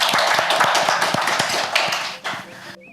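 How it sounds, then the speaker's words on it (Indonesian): Applause for a guest speaker closing an Indonesian live interview session, a crisp burst of many hands clapping at close range, steady for a couple of seconds before tapering off and cutting to silence. "Sekali lagi, kita berikan aplaus kepada Bapak Adnan."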